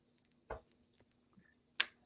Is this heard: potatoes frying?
no